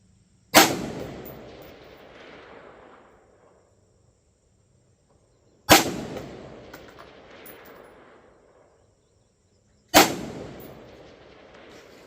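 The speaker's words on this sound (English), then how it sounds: "So with that third shot there, you can tell the difference between the watermelon squirts and when I miss and hit dirt" Three rifle shots at 400 yards at an outdoor range, aimed at a watermelon and hitting either the melon or the dirt, each a sharp loud crack followed by a long fading echo, spaced about five seconds apart, with quiet in between.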